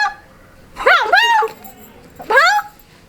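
A voice imitates a dog in a Maithili comedy scene, giving two short, yelping, whimper-like bursts with a pause between them, close and clear.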